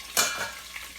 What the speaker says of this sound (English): I'm going to let that stop spattering for just a second.